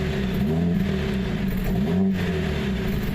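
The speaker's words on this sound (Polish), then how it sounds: "Wydech." A 2020 Mercedes-AMG CLA 45 S exhaust revs briefly at close range, a steady engine drone with a rising and falling rev swell and no talk over it.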